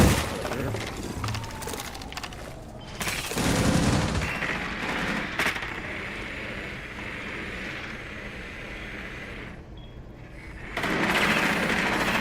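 Rapid gunfire from a video game, aimed at a jammer, crackles in dense bursts across the clip with louder surges near the start and end, mixed with game sounds and a few brief voices.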